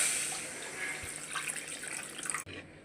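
Water pours in a steady running stream into a pot of fish curry with potatoes, continuing for a couple of seconds before abruptly cutting off.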